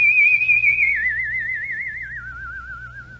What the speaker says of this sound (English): I discovered that I could make a whistle tone. And I kept on working until finally I had a pretty vibrant tone